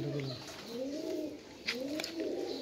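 A pair of pigeons, male and female, coo nearby, with several low rolling coos in slow succession and a couple of faint clicks or rustles between them.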